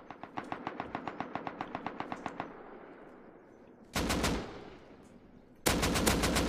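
Rapid automatic gunfire in the survival game Rust: a steady burst of about fifteen evenly spaced shots, followed after a pause by two louder, heavier blasts that ring out and decay.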